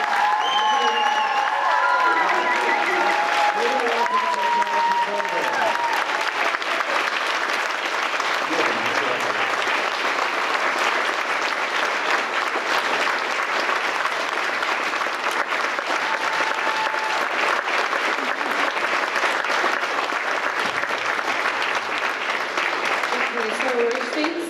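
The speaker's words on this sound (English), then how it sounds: "Ladies and gentlemen, please give a huge round of applause." An audience at a graduation ceremony claps at length, a broad, steady wash of applause that holds at high volume throughout, with voices audible at the start and scattered cheers mixed in.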